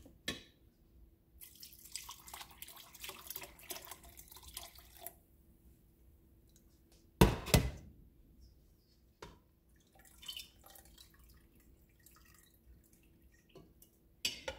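Cheese curds and whey poured from one container into another while making homemade cheese curds: soft, intermittent liquid splashing and dripping, with one louder sloshing burst midway and long quiet stretches between.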